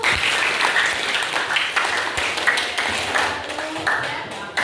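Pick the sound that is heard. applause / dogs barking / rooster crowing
applause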